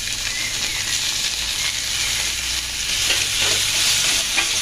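Ginger and garlic paste, added with green chillies to onions, sizzles in hot oil, a steady, close frying hiss with a spatula stirring and scraping through it, no talking.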